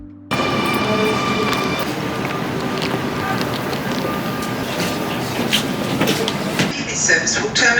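Rumbling, rattling ride on a passenger train, a steady broadband roar with wind buffeting and a faint high whine, continuous and close throughout.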